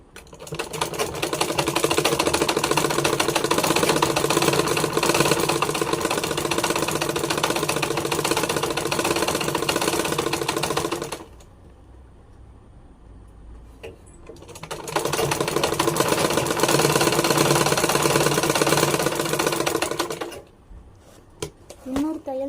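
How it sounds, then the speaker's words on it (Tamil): A sewing machine stitches a straight seam on a pillow cover, running in two long, loud, steady bursts separated by a quiet pause, with a short restart at the end. "சும்மா ஸ்ட்ரெயிட் தையல் மட்டும்தான் போட போகிறோம்"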